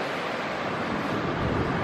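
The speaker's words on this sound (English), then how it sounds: "Wind is blowing and I think I'm getting pretty decent sound here" Wind blows steadily along an ocean beach near a boat launch, a constant broadband rush with faint surf underneath and no voices.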